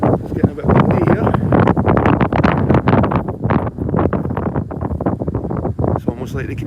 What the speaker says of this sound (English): It's getting a bit windy here.